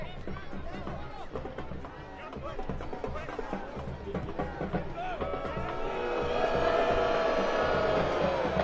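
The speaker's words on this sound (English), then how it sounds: "Ortiz hearing it from the crowd here at Seaside" A stadium crowd at a Monterey Bay FC versus El Paso Locomotive FC soccer match at Seaside jeers a player, a steady roar of voices that swells louder toward the end, with a commentator talking over it.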